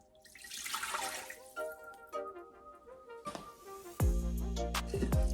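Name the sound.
water poured into Instant Pot with rice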